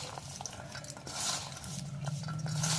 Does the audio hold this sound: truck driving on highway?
no